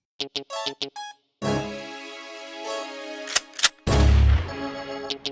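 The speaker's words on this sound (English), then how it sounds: "I've also added this gunshot to happen just after that reload sound" A sharp gunshot sound effect bursts out just after a reload sound, among punchy rhythmic hits and a sustained synth chord, loud and close within a produced 2000s-style hip-hop beat made in Ableton Live 12.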